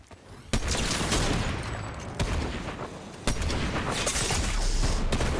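Sniper fire in the Fortnite battle royale video game: three sharp, loud rifle cracks at uneven intervals ring out over a steady wash of in-game ambience and effects.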